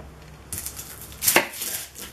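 A knife cuts through an onion on a board, trimming off a spoiled part: one sharp, crisp chop stands out mid-clip, with lighter scraping and handling sounds around it, close and alone without talk.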